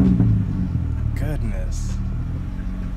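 A car engine rumbles low and steady up close after an oil catch can install, the idle holding under a man's brief spoken exclamation.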